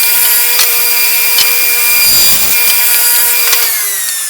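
Table saw cutting a thin wood block down to width: a constant high whine of the blade, with a rougher burst of cutting noise midway as the piece feeds through, then the motor pitch sagging as it spins down.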